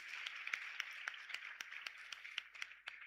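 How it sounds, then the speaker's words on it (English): An audience claps steadily at an induction ceremony for newly qualified physician assistants, with dense, even applause that sounds faint and distant throughout. "Please don't let the applause die."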